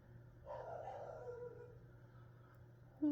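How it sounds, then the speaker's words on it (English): A pet dog barks and howls indoors, one drawn-out call early on, over a steady low room hum, with a sharper sound at the very end. "if you heard that, sorry about my dog"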